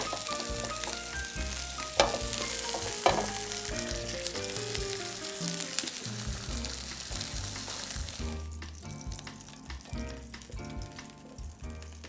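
Turkey browning in a frying pan, a bright continuous sizzle heard beneath loud melodic music, with the music carrying on alone near the end.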